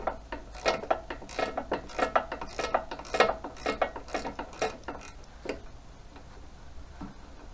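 A spanner ratchets while turning on a Lawnchief lawn mower, giving a quick run of close, crisp metallic clicks in an uneven rhythm that thins out toward the end, with no talking.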